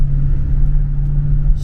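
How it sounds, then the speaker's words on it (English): Another car, heard near a Hellcat, rumbles loudly with a steady low engine drone and a sustained tone throughout, without clear rev peaks. "His car sounded crazy though"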